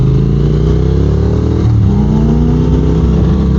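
A motorcycle engine runs loudly and close by, its pitch rising and falling as the throttle is blipped, with no talking.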